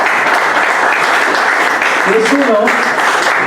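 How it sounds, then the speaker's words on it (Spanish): Applause for a guest commentator at a book presentation fills the room as a steady, dense wash of clapping, with a brief spoken phrase from a voice over it near the end. "para quien pido un fuerte aplauso"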